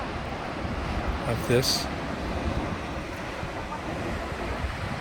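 Ocean waves wash onto a beach at Scalea in a steady, soft broadband rush, with wind noise mixed in and a brief voice speaking partway through.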